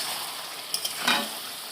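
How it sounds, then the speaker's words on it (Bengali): Fried bori and peanuts stirred together with vegetables in a hot pan for chachra, a soft continuous sizzle with a few quick scraping strokes near the end. "এখানে অ্যাড করে দিলাম বড়ি আর বাদাম ভাজা এবারে নেড়ে দেবো ভালো করে"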